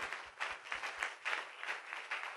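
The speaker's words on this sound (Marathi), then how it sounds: "एक टाळी वाजून देवाला धन्यवाद देऊ" A church congregation claps together in thanks to God, a brief burst of crowd applause with a few strong, rhythmic hand claps standing out near the front.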